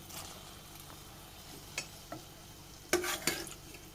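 Cooked beef tipped into biryani masala in a pan lands with soft thuds and scrapes, a few distinct spoon-on-pan clatters near the end against a faint sizzle, close by and with no voices.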